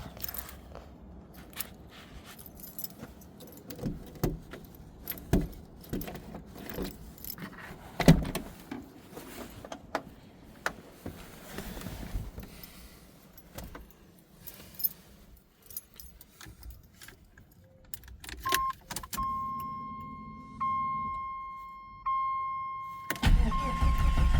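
A 1987 Jeep XJ with a new alternator and battery: keys jangle and several clicks and knocks come first, then the engine cranks and starts near the end. A steady warning chime sounds shortly before.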